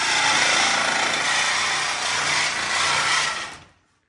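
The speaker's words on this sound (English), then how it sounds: "Dang, moved on to the Sawzall" A Sawzall reciprocating saw rips through steel roll cage tubing for a DIY side-by-side, a loud, dense, continuous grinding rasp lasting about three and a half seconds before cutting off abruptly into silence.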